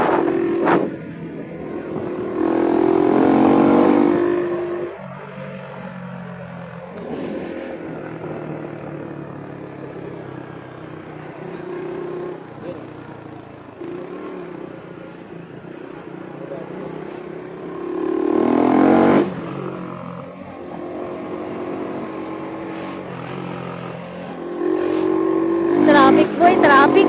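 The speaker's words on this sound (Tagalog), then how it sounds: "Traffic, boy, traffic." Street traffic with motorcycles and cars passing, engines swelling loudly as vehicles go by near the start, around 19 seconds and again at the end, with quieter road hum between and people talking over it.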